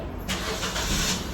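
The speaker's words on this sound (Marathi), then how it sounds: "डॅडीन गाडी स्टार्ट मारता" A car engine cranks and catches, then runs with a steady broadband roar for about a second, fairly close and loud.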